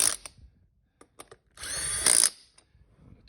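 A power tool spinning lug nuts onto a Honda 420 Rancher ATV wheel: a short whir, a few light clicks, then a longer buzzing run with a brief higher-pitched burst, all close and fairly quiet.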